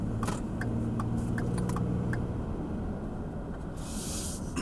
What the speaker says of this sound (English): All this traffic came from, but there wasn't no traffic 30 minutes ago.